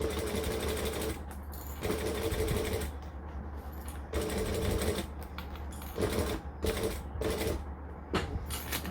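A sewing machine stitches thick quilt binding with purple thread, running in bursts of rapid needle chatter separated by short pauses and restarts.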